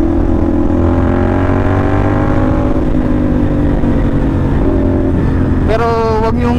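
A CFMoto NK450 motorcycle fitted with an SC Project copy exhaust revs loudly up close, its pitch climbing and falling through a long rise before a sharp final blip.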